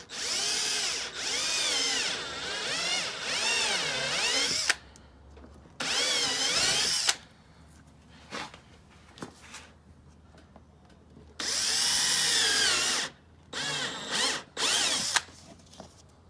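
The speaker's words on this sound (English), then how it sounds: "Try to center it and then drill." A power drill whirs in several loud, sustained bursts, roughly four- to two-second runs separated by pauses with scattered clicks and handling noises, drilling holes while fitting a carbon fiber diffuser to a C7 Corvette Z06.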